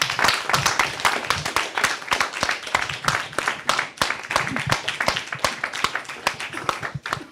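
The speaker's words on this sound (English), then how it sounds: "A roaring applause for the tech team." Audience applause with dense, steady clapping from many hands at a conference assembly, sustained for several seconds at moderate loudness with no break.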